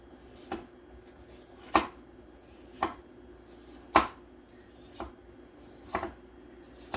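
Burdock root shaved with a knife on a board, a slow series of sharp, separate scraping cuts about once a second, close and quiet with no talk.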